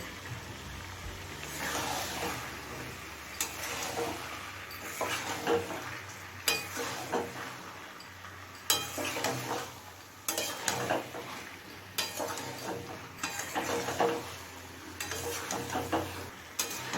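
A spoon scrapes and clatters in a pan as chicken liver, stomach and fried potatoes are stirred together with spices. Soft sizzling runs underneath, and the strokes come in uneven bursts at moderate volume.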